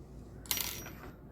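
A brief bright jingle of small bells rings out, shimmering for about half a second before fading, with no talking.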